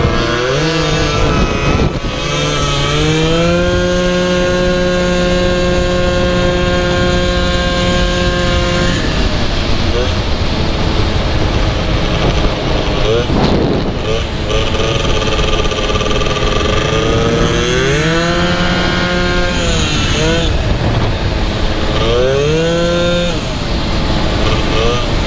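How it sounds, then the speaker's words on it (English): A 120cc stroker Honda Elite scooter engine revs up and down repeatedly, its rising and falling pitch loud and close, with a slight gargle before it clears, while people talk over it. "You can hear when you're revving it up, you hear the gargle."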